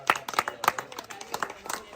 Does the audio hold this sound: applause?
yes